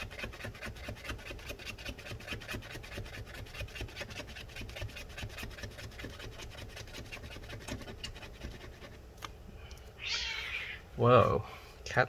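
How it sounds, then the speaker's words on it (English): A cat meows loudly outside near the end, a couple of sharp cries following a long stretch of rhythmic scratching and scraping during a MacBook Pro repair, with a voice talking. "cat's going crazy outside."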